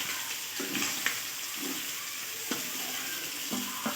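Prawns frying in hot oil in a pan, crackling and sizzling steadily as the last of their water cooks off, with a few soft stirring scrapes and clinks over the top.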